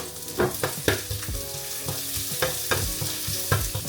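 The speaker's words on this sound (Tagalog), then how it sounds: "i-fry ko lang yung onions. Sabay ko na din yung ginger para sabay silang mag-brown" Onions and ginger frying together in oil, a steady crackling sizzle broken by repeated knocks and scrapes of a spatula stirring the pan, close up and without talk.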